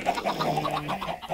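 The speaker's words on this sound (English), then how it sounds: "So yeah, here are all of my chickens here." Minecraft chickens cluck in quick short bursts, a brief run of choppy fowl calls close by with no talking over them.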